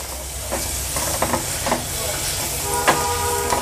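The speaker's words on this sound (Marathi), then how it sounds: "टोमॅटो पण छान ह्या मसाल्यामध्ये आपण परतून घेऊया" Chopped large tomato sautés in hot masala for matki misal, making a loud constant hissing sizzle with a few scraping stirs of the spatula and no talking.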